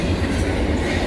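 A CN intermodal freight train rolls past near Montmagney, Quebec, a loud, steady rumble with dense rhythmic wheel clatter filling the whole stretch, close and continuous, with no voices.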